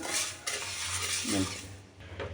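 Green gram, moong dal, dry-roasted with nothing added and stirred in a pan, giving a close, light scraping and rattling of the spoon against metal with small clinks, over a faint background hum.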